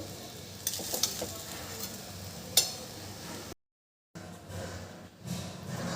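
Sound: stirring jeera rice in a cooking pan

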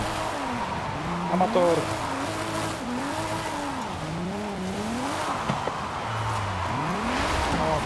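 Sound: BMW E36 M3 skidding while drifting in the video game Forza Horizon 5

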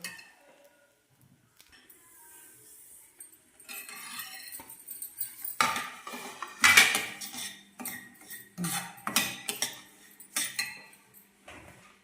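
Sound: frying in a pan with utensil stirring

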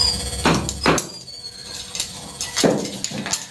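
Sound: hammer tapping tile edges

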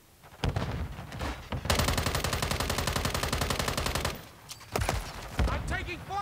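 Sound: gunfire in the video game Modern Warfare III

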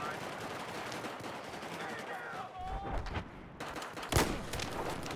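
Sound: video game tank gunfire

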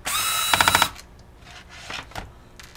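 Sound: unscrewing laptop video card mounting screws

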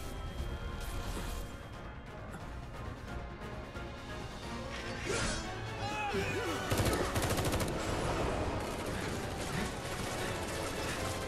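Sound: gunfire from enemy soldiers in Final Fantasy 7 Remake (video game)

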